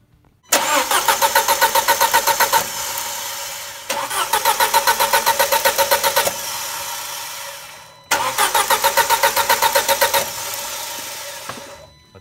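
An Audi A4 / VW Passat engine cranks on the starter during a compression test, three separate bursts of rapid, even chugging, each lasting a few seconds with short pauses between, loud and close.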